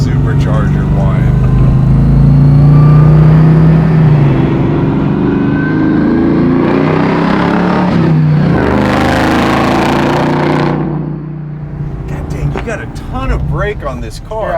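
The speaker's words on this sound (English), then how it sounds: "Oh man, you really hear that supercharger whine." A supercharged 700 hp Chevrolet Camaro Z28 restomod pulls hard under acceleration. A steady supercharger whine rides over a loud, rising engine roar, and voices talk over it inside the car.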